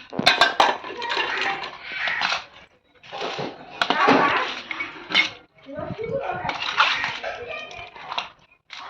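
Chicken pickle being stirred and mixed in a dish after a wood-fire cooking session, with scraping clinks and clatters of a utensil against the vessel under steady nearby talk and a possible dog bark.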